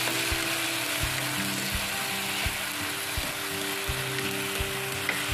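Bitter melon stir-fried in tomato sauce, a loud close sizzle with a utensil scraping and knocking against the pan at a steady, rhythmic pace and no voices.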